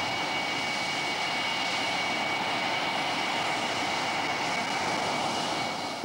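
A light aircraft taxis in after touchdown, its engine giving a steady, even drone at moderate distance that holds the whole time without a break.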